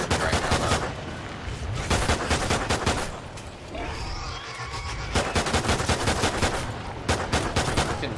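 Rapid bursts of pistol gunfire from Call of Duty: Ghosts in Extinction mode on Nightfall, loud and close, firing in clustered volleys with a short lull midway.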